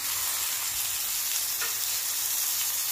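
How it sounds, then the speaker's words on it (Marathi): Chopped tomatoes fry in hot oil after onions, making a steady, dense sizzle that hisses evenly and close throughout with no pauses and no voices. "आणि हे तेलामध्ये छान भाजून घेऊया।"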